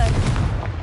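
A Confringo blast spell from Hogwarts Legacy bursts out as a loud, booming impact with a dense rumbling low end, filling the short moment before quickly tailing off.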